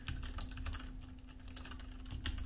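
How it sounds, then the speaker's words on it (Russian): Clicky Cherry MX Blue switches on a Varmilo VA108M keyboard give off rapid, crisp typing clicks in an uneven rhythm, close and distinct against a low steady hum. "они щелкают, такие кликающие свечи"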